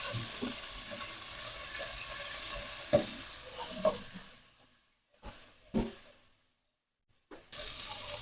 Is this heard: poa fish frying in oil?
yes